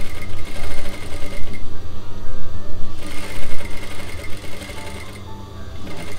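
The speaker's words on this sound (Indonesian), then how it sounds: "kita jahitlah perlahan-lahan ya, supaya jahitan tu kemas." Sewing machine stitching a pillowcase, running steadily and closely with a continuous mechanical whir and brief changes in pace.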